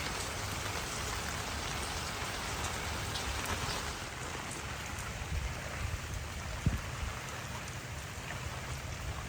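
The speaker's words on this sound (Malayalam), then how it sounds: "ഗംഭീര മഴ പെയ്തുകൊണ്ടിരിക്കുന്നു" A dense, steady roar of heavy rain pours down without pause, with a single brief knock partway through and no voices.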